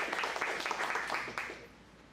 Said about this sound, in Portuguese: Recibamos al doctor Elimar con un fuerte aplauso.